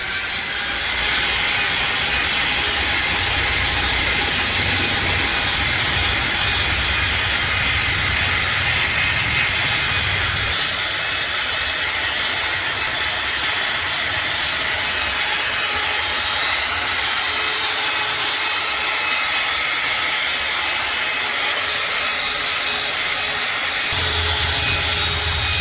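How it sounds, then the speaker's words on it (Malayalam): Loud, steady whir of a power polisher working on a car headlamp, running continuously throughout with a slight change in tone partway. "പോളിഷ് ചെയ്യുകയാണ്."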